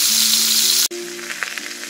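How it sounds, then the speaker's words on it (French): Mushrooms hit hot cooking oil in a pot with a loud, dense, hissing sizzle that briefly cuts out, then continues as a softer crackle with scattered pops. "j'ai mis mes champignons dans mon huile de cuisson"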